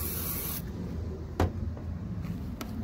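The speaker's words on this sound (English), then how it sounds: "Spray it right on." A short hissing burst of WD-40 spray onto a car headlight at the start, followed by a couple of soft taps and rustles nearby.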